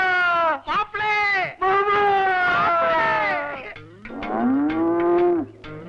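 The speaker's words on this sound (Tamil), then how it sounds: "அது யானை இல்ல, எருமை" Water buffaloes mooing nearby: a series of long, loud, drawn-out lowing calls, with a deeper bellow toward the end.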